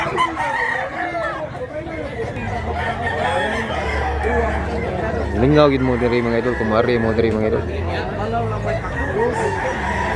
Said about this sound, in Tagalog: Dami manok dito mga idol